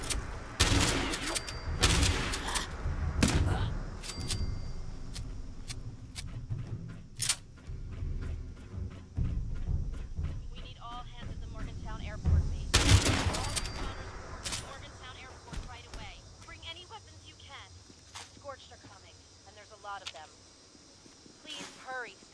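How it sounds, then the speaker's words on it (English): Turret gunfire in the video game Fallout 76: bursts of rapid sharp shots and scattered single cracks, loudest early and again midway, fading to quieter ticking as a player talks over it. "Oh, there's a turret up there."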